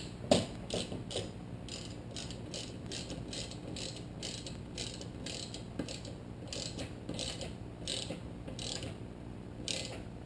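A hand ratchet tightening a 14mm nut on a car strut bar in a Scion tC engine bay, with steady rapid clicking strokes repeated close by and fairly quiet throughout.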